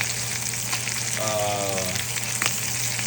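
Steak sears in butter in a Le Creuset cast iron pan, a steady close sizzle and crackle running throughout, with a brief tonal squeak in the middle and a soft clatter near the end.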